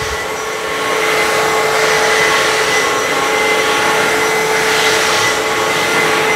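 A Kenmore HF5010 wet-dry vacuum cleaner runs with a steady, loud whine and airy roar that holds constant for several seconds, with no talking.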